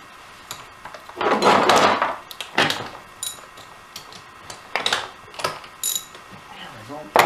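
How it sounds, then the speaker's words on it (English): Ratchet wrench loosening 10mm bolts, with rapid clicking pawl bursts in several separate runs, close and distinct, with short pauses between each bolt. "those are 10mm bolts. And we'll just start by popping them all loose"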